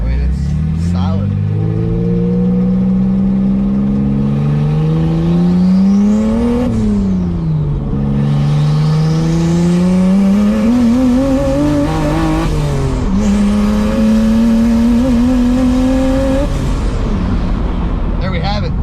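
A turbocharged BMW E30 with a stock M20B25 inline-six accelerates hard, its engine note climbing steadily through the gears with brief drops at each shift and turbo whoosh on top, loud and close from inside the car.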